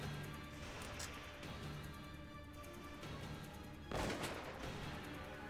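Sniper fire in the Valkyria Chronicles battle game gives one sharp report partway through, faint and set against a noisy, busy game backdrop.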